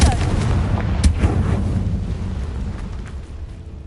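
Confringo blasting curse explosion in Hogwarts Legacy, a sharp booming blast with a crackling, rumbling tail that fades over a few seconds, heard alone.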